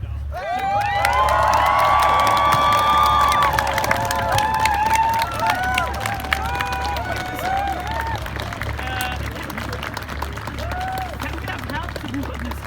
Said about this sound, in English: really warm applause